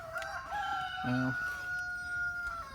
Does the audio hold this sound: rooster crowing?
yes